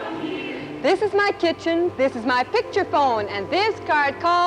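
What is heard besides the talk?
None of the usual background noises is heard.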